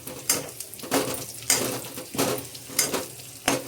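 Spatula stirring fried food seasoned with a little chilli powder in a pan, producing five or six rhythmic scraping strokes over a steady sizzle, close and moderately loud, with no talking.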